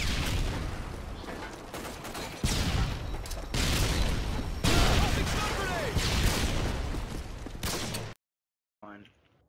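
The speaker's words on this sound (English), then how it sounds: "Throwing a stun grenade." Gunfire and blasts fill a chaotic online shooter match as a stun grenade is thrown, a dense, loud barrage of bursts and booms that cuts off abruptly, followed by a short spoken phrase.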